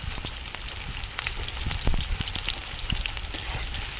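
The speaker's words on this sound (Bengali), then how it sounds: "তেলটা গরম হয়ে এসছে, এবারে পেঁয়াজগুলো দিয়ে দিচ্ছি তেলের মধ্যে" Onions dropped into hot oil sizzle loudly and steadily at close range, with crackling bursts and a few louder pops near the middle; no voices.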